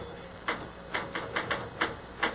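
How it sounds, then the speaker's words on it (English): Typewriter keys struck in an uneven rhythm, about seven sharp clacks close by over a quiet room hum, performed as a radio drama sound effect. "Stop that typing."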